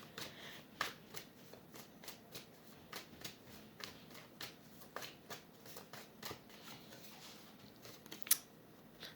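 Tarot cards handled and shuffled close up before one more card is pulled, a series of crisp riffling snaps and flicks at irregular intervals, with no talking.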